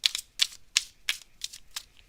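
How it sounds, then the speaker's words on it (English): Tarot cards being shuffled during a live reading, heard as six crisp, evenly spaced riffling bursts a few tenths of a second apart, close and fairly quiet, with no voices. "I'm shuffling here for you"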